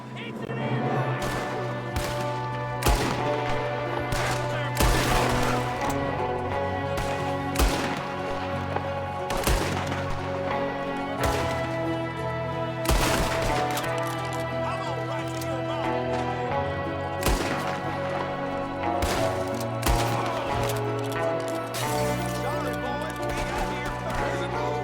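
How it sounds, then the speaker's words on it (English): Repeated gunshots ring out in a Red Dead Redemption 2 ambush, sharp cracks spaced every second or two over steady game music and ambient noise, loud and near. "There's another one shooting from the window."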